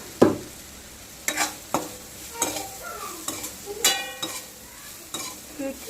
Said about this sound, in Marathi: मीठ घातल्यावर अजून एकदा परतायचं छान मिक्स करून घ्यायचं